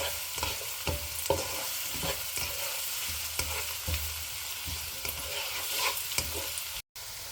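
Chopped onions frying in a pan over a medium flame for Afghani Kabuli pulao, a steady close sizzle broken by repeated scraping stirs, with a brief drop to silence near the end.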